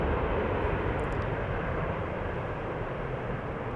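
Airbus A330-300 airliner departing Amsterdam Schiphol Airport, its jet engines producing a continuous, heavy, even roar with no pauses or talk.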